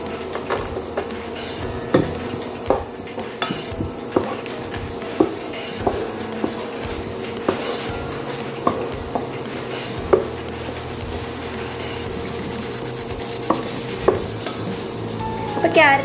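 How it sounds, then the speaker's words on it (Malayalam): Lengthwise-cut strips of a medium carrot roasting in hot oil for Bukhari chicken rice give a constant sizzle, broken by a regular scrape and clack of stirring in the pan. "ഒരു മീഡിയം ക്യാരറ്റ് ഇതേപോലെ നീളത്തിൽ അരിഞ്ഞിട്ടുണ്ട്, അത് ഇട്ട് കൊടുക്കുന്നുണ്ട്"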